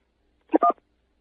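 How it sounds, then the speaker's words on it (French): A telephone keypad tone from pressing key 1 on a France Télécom handset line: two short, clean tonal beeps in quick succession, alone against silence. "Pour une meilleure écoute, appuyez sur la touche 1."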